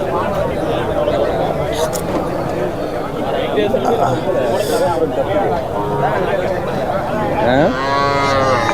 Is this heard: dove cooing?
no